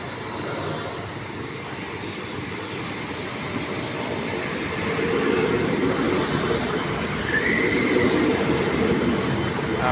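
An air-conditioned Class 40 diesel railcar express of four cars rolls into Nakhon Pathom railway station with a steady low engine rumble that grows louder, and brief squealing of wheels near the end.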